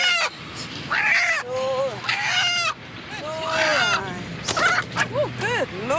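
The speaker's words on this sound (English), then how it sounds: "that's a feisty chicken" A stressed, feisty hen being handled squawks and shrieks repeatedly in sharp, loud bursts close by, with rustling and handling noise between calls.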